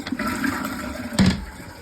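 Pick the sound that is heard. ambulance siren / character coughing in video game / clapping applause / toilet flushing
toilet flushing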